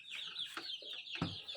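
Chickens and chicks cluck and peep inside a new coop, a quick run of high, close chirps and short clucks layered together without pause, with no voices.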